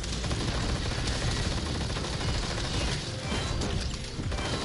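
Gunfire from blasters in the VR shooter Blasters of the Universe, a rapid unbroken clatter of loud shots with mechanical rattling that stays intense throughout.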